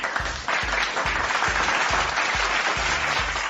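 Canned applause effect from a MAONOCASTER lite AU-AM200 podcast mixer, a steady wash of many clapping hands with a repeating low thump, loud and continuous for a few seconds.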